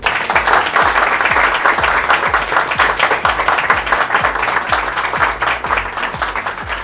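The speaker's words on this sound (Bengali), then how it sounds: "তো তাদের জন্য একটা জোরে হাততালি।" Loud, sustained applause from an audience at a fifth-anniversary celebration, many hands clapping densely and steadily without pause, with some thumping low beats alongside the crowd noise.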